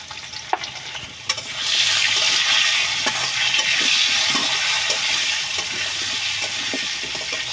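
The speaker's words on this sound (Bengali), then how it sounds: "হালকা করে ভেজে নেব" Pumpkin, pointed gourd and potato pieces fry lightly with salt and turmeric in a pan, a steady close sizzle swelling after a couple of scrapes and holding loud with soft stirring clinks throughout.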